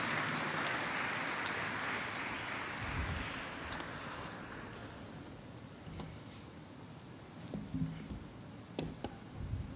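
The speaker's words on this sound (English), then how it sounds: "join me in giving a big round of applause as all of our core team members join" An audience claps at a law society moot court closing ceremony in a hall. The dense applause starts fairly full and gradually thins and fades to scattered claps.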